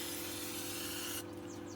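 Brake cleaner sprayed from an aerosol can onto grease inside an electric bike motor: a steady hissing spray that stops after about a second, leaving quieter background noise.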